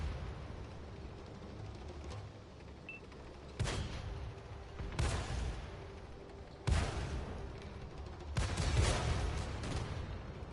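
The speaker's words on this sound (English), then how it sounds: "So I decided to put a few rounds into him." Heavy gunfire from a tank in a video game, a PT-76 in a war game, comes as several loud, booming bursts spaced a second or two apart over a steady low rumble of battle ambience.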